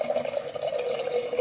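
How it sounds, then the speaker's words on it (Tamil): Water pouring into a pressure cooker holding urad dal, a steady close trickle and splash lasting a moment with no voices. "இந்த குக்கரில் சேர்த்துட்டு தண்ணி ஊற்றிக்கோங்க"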